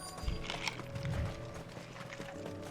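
Horse hooves clip-clopping in Final Fantasy XVI, a soft, quiet trot with a few louder thuds near the start over faint background ambience.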